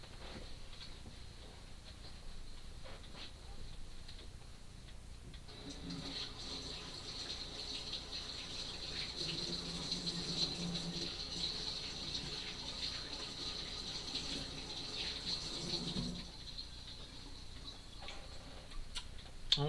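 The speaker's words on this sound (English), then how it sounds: "So let me wash my hands here." Tap water runs faintly for about ten seconds during handwashing in a home kitchen, a soft steady rush between quieter stretches, with a clock ticking in the background throughout.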